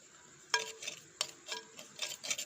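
Chicken being stirred with garam masala and spices in a pan, producing several scraping, clinking strokes in an irregular rhythm, close and fairly quiet, with no talking.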